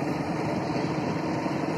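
A motorcycle engine hums steadily in third gear while the bike rolls slowly, giving a continuous, even drone with no gaps and no talking.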